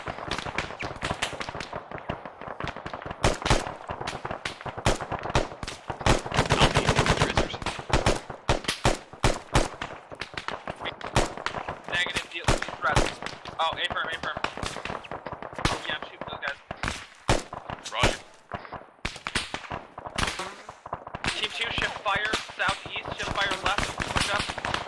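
Rapid bursts of machine gun fire crackle almost without pause in the military shooter game Squad, sharp and loud, with voices calling over the shots.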